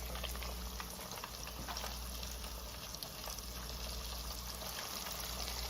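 Baby back ribs fry in hot grease, giving a steady, dense sizzle and bubbling that continues without a break at an even, moderate level.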